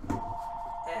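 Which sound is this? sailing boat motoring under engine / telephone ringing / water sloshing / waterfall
telephone ringing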